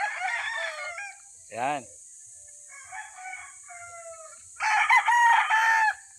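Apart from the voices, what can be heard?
rooster crowing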